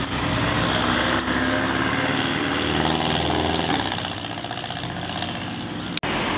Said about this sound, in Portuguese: Pipocando. Porsche Boxster.